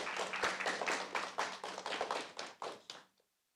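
Short burst of group applause at a school district event, a dozen or so distinct claps in a loose rhythm, fairly close, fading out abruptly after about three seconds with no talking.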